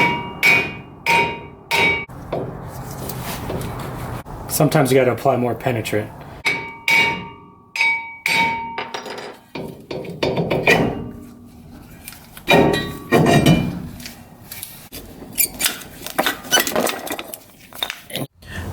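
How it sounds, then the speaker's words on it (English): Hammer strikes ring out against a seized front brake rotor on a Nissan Titan treated with penetrant, sharp metallic clanks in irregular bursts, loud and close, with someone talking briefly between blows. "spray some penetrant in each hole and around here and tap it with a hammer."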